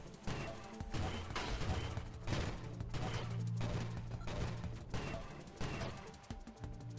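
A rocket shotgun in the space action roguelike Nova Drift fires again and again in rapid bursts, dense, loud and continuous, with booming low impacts.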